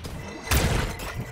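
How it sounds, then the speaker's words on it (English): Valorant flashbang going off in a video game round, a sudden loud burst halfway through that lingers as a bright, hissing wash over low rumble, with no talk. "Flashbang."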